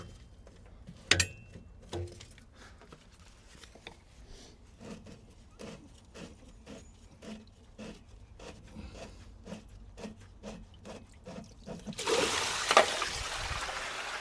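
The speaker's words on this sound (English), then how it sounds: "All right, so the water is draining out." Water trickles and gurgles out of a Jandy pool filter drain as dirty water empties, with a soft rhythmic rubbing and dripping texture, ending in a louder gushing rush near the close.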